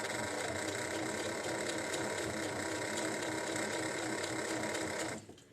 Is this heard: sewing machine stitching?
yes